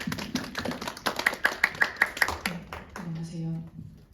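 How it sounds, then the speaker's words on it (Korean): An audience claps to welcome a presenter at a seminar, a short run of sharp, fairly faint hand claps, followed by a voice speaking. "박수!"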